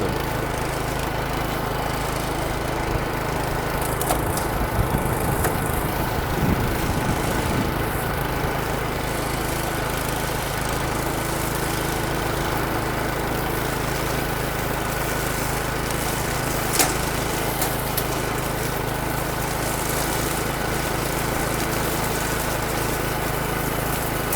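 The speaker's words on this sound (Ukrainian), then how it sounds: "Йдемо не поспішаючи, косарка їде сама, її не треба штовхати, підіймати" A HECHT 5060 self-propelled lawn mower engine drones steadily and evenly throughout while cutting tall grass, a continuous mechanical hum with slight rattles, close by and with no talking.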